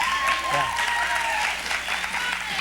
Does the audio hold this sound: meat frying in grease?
no